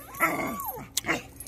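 A young brindle pit bull dog gives a short, high whining yelp that bends downward, then a second brief bark-like yip, close and alone.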